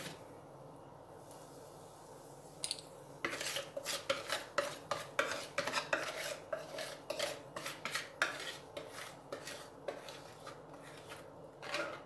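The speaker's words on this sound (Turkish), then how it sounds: "Tepsimi yağladım. Şimdi tepsimize döküyoruz." Wet cake batter is poured from a bowl into a greased rectangular glass baking tray, with a quick series of close scraping clinks and taps as a utensil pushes the last of the batter out.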